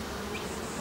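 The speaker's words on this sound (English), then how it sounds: "There's quite a few bees on that frame." Honey bees crowd a hive frame, giving a close, steady buzzing drone that holds level for the whole short moment.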